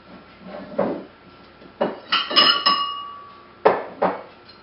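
Antique glass measuring cups clink and ring as they are handled and set down, with several sharp knocks and one bright, briefly sustained chime, close and clear with no talking.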